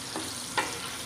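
Chopped onions and green chilies fry in a pan while being stirred, giving a brief steady sizzle broken by two short scraping strokes, with no voices.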